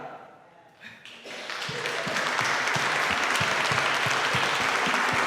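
An audience at a live show breaks into applause: it starts quietly after a short voice, swells within about a second, then settles into loud, sustained clapping across the room.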